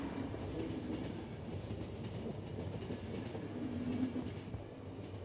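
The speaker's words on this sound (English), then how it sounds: "You are on the fucking train." Train rolling along rails in The Final Station, a steady low rumble with faint rhythmic clatter running continuously and evenly throughout, no voices.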